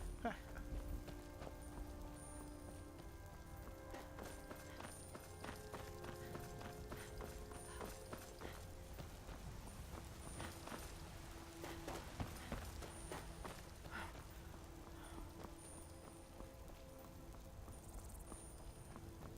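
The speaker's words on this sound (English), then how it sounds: "Oh, I can't wait to try riding a horse." Galloping horse hooves clip-clop steadily in Elder Scrolls V: Skyrim played in VR, quiet and continuous, over tonal background music and some talking.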